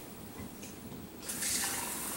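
Tap water runs steadily into a container while cornstarch slime is being made in a kitchen, a soft low trickle that rises to a fuller, brighter gush partway through, with no talking.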